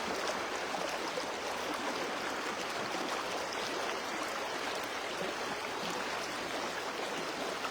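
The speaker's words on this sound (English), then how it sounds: "Just enjoy the sounds of the river." A river flows steadily along a beautiful stretch, a constant broadband rush of water, soft and even, with no voices over it.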